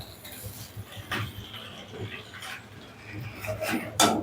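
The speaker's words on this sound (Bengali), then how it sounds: "এবার এই ভেজ ম্যাগিটাকে এই সবজির সঙ্গে মিক্স করতে হবে ভালো করে।" Veg Maggi noodles being stirred together with vegetables in a pan, scattered soft scrapes and clinks of a utensil against the pan, fairly quiet and irregular, with some background noise.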